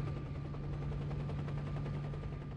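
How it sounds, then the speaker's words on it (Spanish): Helicopter in the video game S.T.A.L.K.E.R. Shadow of Chernobyl, a steady rapid rotor chop with a constant drone, moderately faint throughout. "Escucho un helicóptero."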